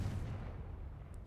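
A Confringo fire spell blast from the video game Hogwarts Legacy, a single deep rumbling burst that is loud at the onset and rolls on steadily through the moment, with no voices.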